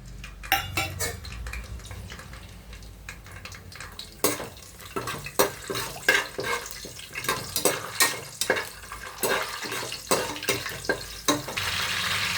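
Whole spices crackle and pop in hot oil inside a pressure cooker, with sharp metallic clinks of a spoon against the pot punctuating a steady sizzle, loud and close, no talking.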